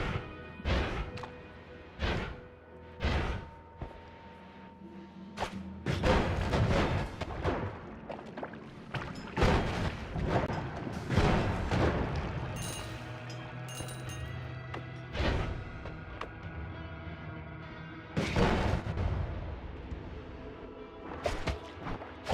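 Spell explosions in the video game Noita, a series of sharp crashing blasts scattered irregularly, some in quick clusters, with lingering rumbling tails and gaps of quieter mechanical noise between.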